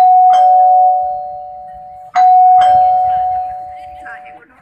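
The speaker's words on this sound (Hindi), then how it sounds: "घंटी बजदन।" A doorbell rings with a sustained electronic chime tone, sounding twice in quick succession with sharp onsets, clear and close inside a house during a Garhwali family skit, with faint background rustle.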